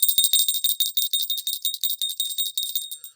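A tiny bell, a keepsake from a late grandmother, rung close up in a rapid, continuous jingle of about twenty bright strikes that stop abruptly at the end.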